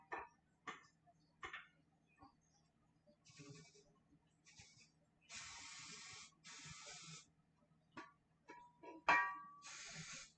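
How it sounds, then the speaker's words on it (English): Short bursts of cooking spray hiss from a can onto a baking dish before mac and cheese goes into the oven, a few close, loud sprays separated by quiet moments and light kitchen clatter. "I want to spray this a little bit because I get scared."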